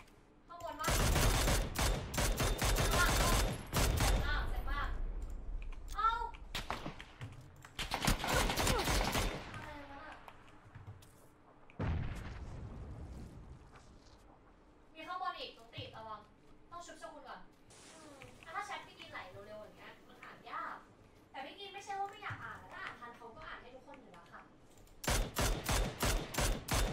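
Video game gunfire in rapid loud bursts, first around the start, again near eight seconds and at the very end, with quieter shots between them under frequent casual talk from players.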